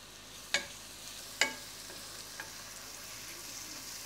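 Garlic powder seasoning is stirred into a green bean casserole: two sharp spoon knocks against the dish, then soft, quiet scraping and mixing over a low background hiss.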